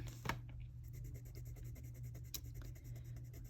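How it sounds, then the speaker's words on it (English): A white colored pencil scratches and rubs across a piece of scrap paper, a close, quiet dry scribbling with a couple of sharper strokes and no talking. "I do like to have a piece of scrap paper at the side so that I can clean my white pencil off"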